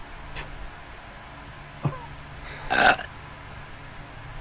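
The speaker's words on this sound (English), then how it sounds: "Is it your fucking burp time or something?" A short, loud burp rises out of quiet room tone near the end, after a faint earlier click and a small throaty sound.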